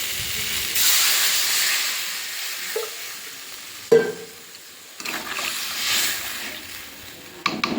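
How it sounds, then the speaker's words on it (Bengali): Water poured into a hot pan of fish curry gives a loud, broad hiss that surges, fades and returns in bursts, with a couple of sharp metallic clinks from stirring in between. "এবারে জল দিয়ে দেবো।"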